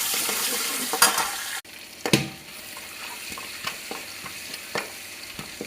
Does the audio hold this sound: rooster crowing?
no